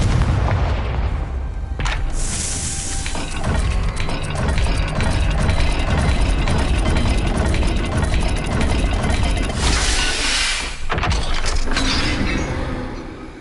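A Confringo blasting spell explodes in the Hogwarts Legacy video game, a loud, dense booming blast with crackling debris that fills the whole stretch, with a bright burst near the start and another toward the end.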